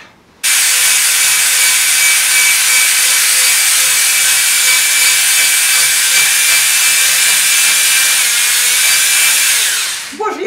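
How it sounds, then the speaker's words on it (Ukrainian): A loud, continuous high-speed whirring hiss of an electric blender whisking eggs runs unbroken for about ten seconds, starting and stopping abruptly. "Буду збивати блендером, бо руками це буде дуже довга робота."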